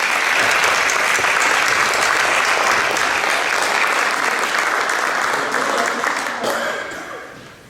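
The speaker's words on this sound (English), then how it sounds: "can you help me give Maria a round of applause?" A school board meeting audience gives a student a round of applause: steady, dense clapping from a roomful of people that holds for several seconds, then thins and fades out at the end.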